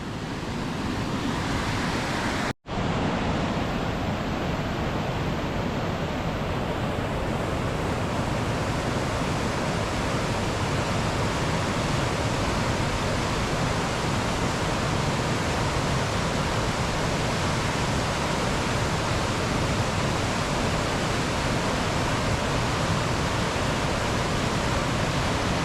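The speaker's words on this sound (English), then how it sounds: "This is Fall Creek 2 Rapid." Fall Creek 2, a class 5 whitewater rapid on the South Fork Salmon River, roars as a loud, unbroken wash of rushing water close by, with a brief dropout near the start and no voices.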